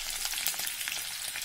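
Cumin, green chillies and dried red chillies frying in hot oil for a tempering, a brief, fairly faint crackling sizzle heard close and without any voices.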